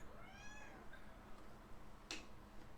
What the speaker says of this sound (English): I hear a cat meowing outside.